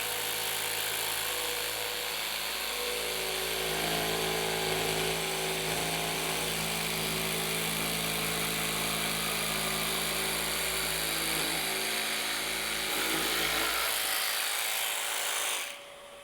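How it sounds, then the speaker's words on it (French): Festool CARVEX jigsaw cutting a curve in wood, a loud steady buzzing rasp of the reciprocating blade that runs continuously, then cuts out abruptly at the end. "il ne me reste plus qu'à positionner ma scie en bord de pièce et à commencer ma découpe"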